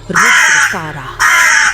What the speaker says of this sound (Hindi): अचानक आसपास बैठे कौवे जोर जोर से चीखने लगे